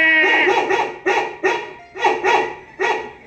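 A dog barks repeatedly, close and loud, in short bursts of two or three with brief pauses between them.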